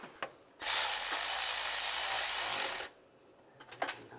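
A power tool whirs in one loud, close burst of about two seconds while snugging bolts on a 2007-2013 Chevrolet Silverado 1500. Faint metallic clinks come before and after it.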